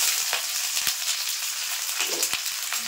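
Chopped onion hitting hot oil in a wok tempered with dried red chillies and whole cumin, a steady close hiss of frying with a few sharp scraping stirs, no voices.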